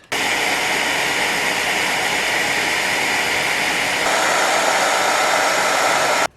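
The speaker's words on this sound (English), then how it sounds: "We're gonna try the hairdryer." A hairdryer runs loud and close, drying a food-coloring-painted chinchilla cage accessory: a steady blowing roar that shifts slightly in pitch midway, then cuts off abruptly.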